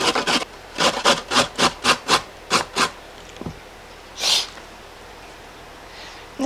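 Onions hand-grated for Lebanese-style meatballs and sauce: about eight quick rasping strokes in a steady rhythm, close and fairly loud, followed by a single sharp burst and then near silence.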